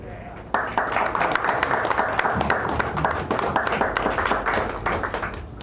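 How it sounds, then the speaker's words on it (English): An audience at a poetry reading in a San Francisco cafe applauds steadily with dense, continuous clapping that starts abruptly and carries on at an even level throughout. "So give Stephanie Manning a nice round of applause."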